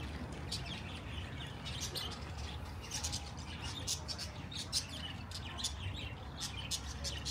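An unidentified bird chirps repeatedly in short bright bursts during a summer walking tour of Stafford, England, over steady outdoor background noise.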